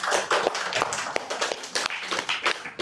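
A seminar audience claps in a quick, irregular burst of moderate loudness. The sharp hand claps overlap and carry on for about three seconds.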